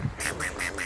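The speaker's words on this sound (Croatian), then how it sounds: "Evo patke." A duck at a zoo quacks four times in quick, evenly spaced calls, fairly close and clear over faint background noise.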